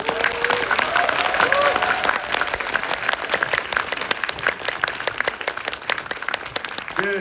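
Sustained, dense applause from a seated audience at a film talk event with director Makoto Shinkai, steady and loud throughout with scattered individual claps standing out.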